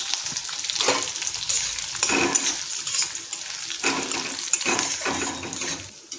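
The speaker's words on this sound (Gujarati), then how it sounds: "અહીંયા થોડા સિંગદાણાનો ભૂકો આ બધું આપણે મિક્સ કરી લઈશું।" Chopped chili and crushed peanuts being stirred into sweet potato in a pan for a dry farali sabzi, with repeated scraping and sizzling strokes and soft clinks, fairly close and steady, with no voices.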